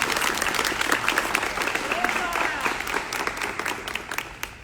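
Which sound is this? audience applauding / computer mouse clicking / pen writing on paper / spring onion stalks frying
audience applauding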